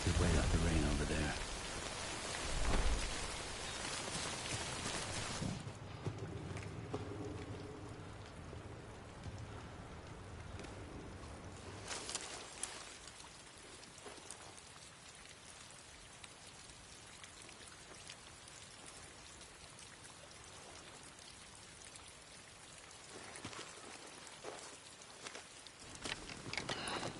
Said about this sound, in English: We've wait out the rain over there.